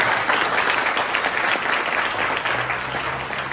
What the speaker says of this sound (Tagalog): Yung palakpak ng na-bless dahil tinamaan siya.